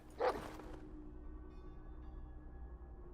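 A dog barks once, short and close, in a Game of Thrones video game set beyond the Wall, followed by a low steady background hum.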